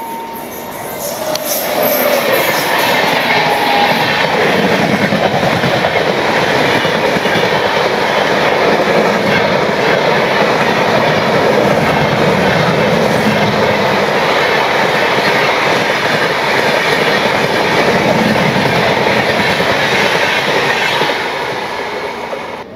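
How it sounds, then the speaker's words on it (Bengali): An LHB-coach passenger train pulls away from a station on a foggy route out of Kolkata, its wheels rumbling and clattering continuously with metallic squeals, loud and close for about twenty seconds before easing slightly at the end. "আমাদেরও ট্রেন ছেড়ে দিল।"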